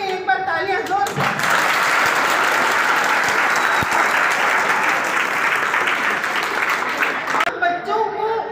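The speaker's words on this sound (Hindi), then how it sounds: "उन सब के लिए एक बार तालियां जोर से" An audience at a school ceremony honouring successful students breaks into loud, dense applause lasting several seconds. Brief speech comes just before and right after the clapping.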